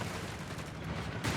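Mortar rounds firing from a mortar pit in the Company of Heroes 3 strategy game, a steady rumble of distant artillery with a heavier thump near the end, no talk over it.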